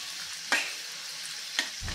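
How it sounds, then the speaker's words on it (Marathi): Finely chopped garlic sizzles in hot oil in a pan while cooking a dry okra (bhindi) vegetable dish. A steady soft hiss is broken by two sharp clacks of a spoon stirring. "लालसर रंगावरती लसूण परतून घ्यायचा आहे थोडासा"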